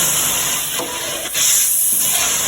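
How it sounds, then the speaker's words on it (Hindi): Mutton being mixed with yogurt in a kadhai gives off a loud, steady steamy hiss and sizzle, with faint stirring scrapes. "ये अभी दही को मटन में मिक्स कर रहे हैं"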